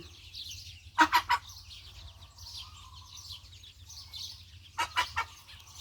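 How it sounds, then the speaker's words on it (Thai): Mother duck out with her fourteen ducklings near a dried-up canal, giving two short bursts of quick quacking calls, moderately close, over a low steady background hum. "แม่เป็ดเขาออกมาแล้ว พาลูกออกมาแล้วได้สิบสี่ตัวนะคะ"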